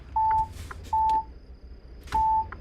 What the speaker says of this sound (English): I just hear beeping.